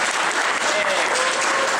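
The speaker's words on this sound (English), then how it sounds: "You can clap if you want." Loud, dense applause from a convention panel audience, a steady wash of clapping throughout without pause.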